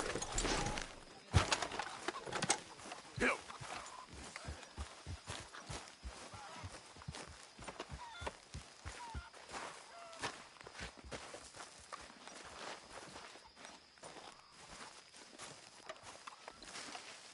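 Horse hooves in Red Dead Redemption 2 clop along in a steady walking rhythm, a long run of light, even footfalls at close range with faint bird chirps in the background.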